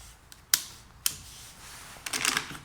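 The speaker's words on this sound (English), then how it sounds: "press the travel lock, pull back, and the action opens up" A Mauser M25 MAX straight-pull rifle action is worked open: two sharp metallic clicks, then a short rattling slide of the bolt, close and crisp against a quiet background.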